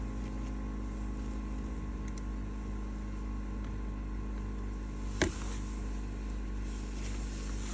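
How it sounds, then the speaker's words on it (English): An air compressor runs during winterisation with a steady low mechanical hum and faint tonal drone, quiet and even, broken once by a brief sharp click. "And then the compressor will stop eventually"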